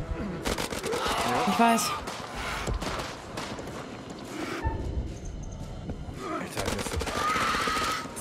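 Gunfire in the horror video game House of Ashes cracks in rapid bursts amid game effects and tense music, with people talking over the shooting.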